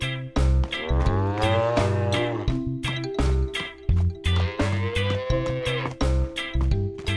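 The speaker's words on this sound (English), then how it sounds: "Peppa takes care of the dairy cows." Dairy cows moo repeatedly, loud and drawn-out, one call after another with short pauses between, in a cartoon.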